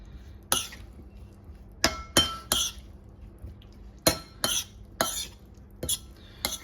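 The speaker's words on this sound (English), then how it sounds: "Give that a little stir." Metal utensil clinking against a bowl while chopped tomatoes for bruschetta are stirred, with about eight sharp, separate clinks and scrapes spaced irregularly over a quiet background.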